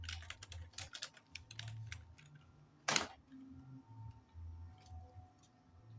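Fingers type a command on a computer keyboard in quick bursts of crisp key clicks, pausing between groups, with one sharper, louder key strike partway through and faint background hum.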